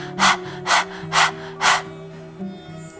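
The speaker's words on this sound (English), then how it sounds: "we begin breath of fire. Stick your tongue out and begin panting like a dog" Rapid panting breath of fire in Kundalini yoga, tongue out like a panting dog: four strong, evenly spaced breathy bursts close to the microphone, then a softer one, over soft steady background music.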